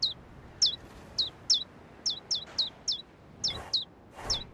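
Small cartoon birds in a video game, hungry chicks, give about a dozen quick, high chirps in an uneven rhythm, bright and close, over a faint background hum with no talking.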